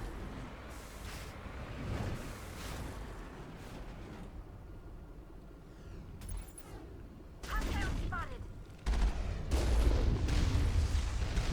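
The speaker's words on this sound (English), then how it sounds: "You are shooting at me." Gunfire in the video game Mass Effect rattles in bursts and booms under someone talking, growing heavier and louder toward the end with dense, rumbling blasts.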